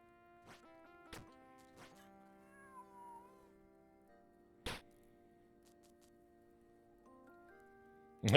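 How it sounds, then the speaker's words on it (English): A cat meows faintly indoors, one short gliding cry over quiet electronic video game music, with a few sharp clicks and knocks scattered around it. "Close the door and keep that cat out of there."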